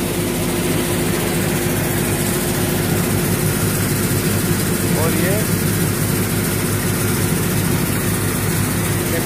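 A tractor engine runs steadily beside a heap of fenugreek on a farm plot, a constant low droning hum close by, with someone talking over it throughout.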